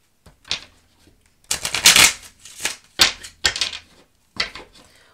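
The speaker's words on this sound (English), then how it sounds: "One more shuffle." Tarot cards are shuffled by hand in several quick riffling bursts, close and crisp, separated by short pauses of near silence.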